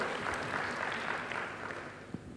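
A church congregation claps in response to a preacher's call to applaud, producing a steady, soft wash of many hands that holds evenly throughout.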